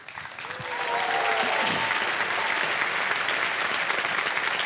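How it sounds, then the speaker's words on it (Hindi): Studio audience on a televised quiz show bursts into sustained, loud applause for a winning contestant, a dense wash of clapping that swells within the first second and holds steady throughout. "ताली बजते रहे इनके लिए"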